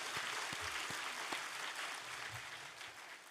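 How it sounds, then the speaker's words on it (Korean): A church congregation at a Sunday worship service applauds, a soft, steady wash of many hands clapping, heard faintly and from a distance across the sanctuary. "인도하신 하나님께 영광의 박수를 드리겠습니다."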